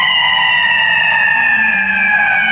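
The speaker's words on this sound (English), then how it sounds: "this law enforcement car passes so loud" A law enforcement car passes close by, its siren wailing loudly in steady sweeping tones over a constant traffic rumble, with no talking.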